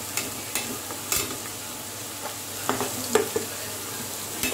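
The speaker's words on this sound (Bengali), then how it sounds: "আলু ক্রাঞ্চি হতে শুরু করে দিয়েছে, এইবারে একটু নাড়াচাড়া করে দেব" Shredded potatoes fry crisp in a pan over medium-high heat, a soft continuous sizzle broken by several sharp scraping stirs of a spatula at irregular intervals, close by and without speech.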